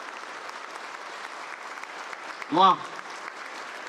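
Faint, diffuse applause rises from the crowd at a Tirupati Group leadership masterclass, a soft, steady patter in the background, broken near the end by one short, loud exclaimed word from a nearby voice.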